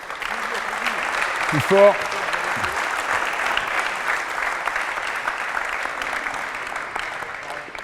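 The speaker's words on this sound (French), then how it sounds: "On peut applaudir l'équipe que je viens d'entraîner." Applause for a French youth training squad after a Sunday-morning coaching session, steady clapping from a small group throughout, with a voice speaking briefly over it near the start.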